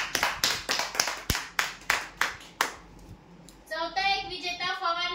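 A small audience claps for a prize winner at a lucky draw event, about a dozen distinct, loud hand claps in a slow uneven rhythm that stop midway, after which a voice speaks.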